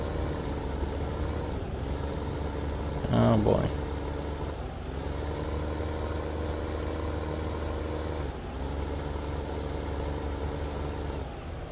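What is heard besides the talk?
tractor engine in video game Farming Simulator 15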